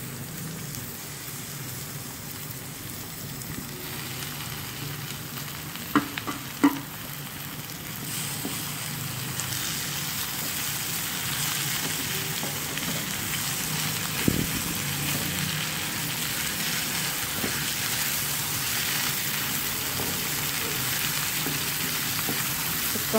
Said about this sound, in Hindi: तो हम 5 मिनट फ्राई करेंगे ताकि प्याज थोड़ा, टमाटर थोड़ा सा नरम हो जाए।